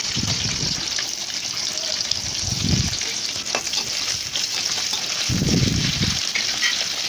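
Onions frying in hot oil for pasta masala, a loud, steady sizzle with a few brief low bursts of stirring; nobody talks.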